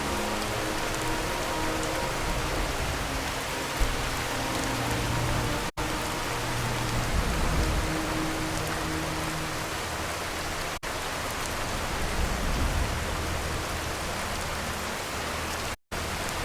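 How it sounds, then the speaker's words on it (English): Steady rain falls in Skyrim Special Edition, a continuous, fairly loud hiss of drops pattering on surfaces that runs unbroken for the whole stretch with no voices. "Rain makes the landscape look mysterious."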